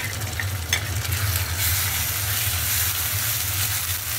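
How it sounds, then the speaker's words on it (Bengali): Garlic and ginger paste fries in hot oil with browning onions, giving a steady, close sizzle that holds evenly throughout over a low background hum, with no talking. "রসুনের একটু কাঁচা গন্ধটা যাওয়ার জন্য একটু ভাজা নেব।"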